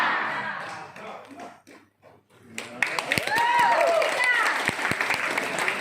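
An audience at a talk by a doctor claps in a loose, scattered burst that quickly swells into sustained applause, following a stretch of speech and a brief pause.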